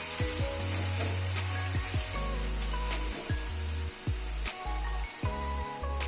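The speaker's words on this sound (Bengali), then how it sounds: "টমেটোটা একটু মশলার সাথে কষিয়ে নেব" Tomato paste is stirred with spices in a pan, with a spatula making repeated rubbing, scraping strokes against the pan over a constant low background hum.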